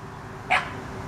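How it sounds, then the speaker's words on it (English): A single short dog bark, sharp and a little distant, rising briefly above steady outdoor background noise. "Hopefully that barking doesn't scare it away."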